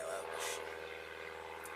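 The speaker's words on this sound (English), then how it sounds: "It's an aeroplane going by" An aeroplane passing over a carp-fishing lake, heard as a steady, faint broadband drone throughout, with no clear build or fade.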